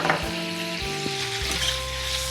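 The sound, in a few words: frying mutton with ginger-garlic paste for biryani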